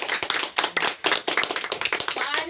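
A gathering of listeners at a Hindi church sermon clapping hands in a quick, uneven burst of sharp overlapping claps, close and lively, with no talking.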